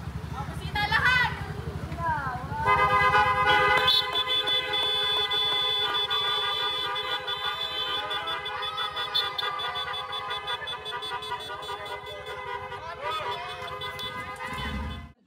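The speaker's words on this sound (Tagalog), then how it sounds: "Busina lahat!" Several motorcycle horns blare together at a rider club anniversary gathering in Tarlac, Philippines, in a long, sustained chorus of overlapping tones, loud and close, with voices and crowd noise underneath.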